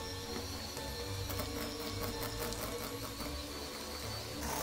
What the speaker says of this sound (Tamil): பட்டரை வந்து முதல் நாங்கள் நல்லா சாஃப்டாக பீட் பண்ணி எடுப்போம்.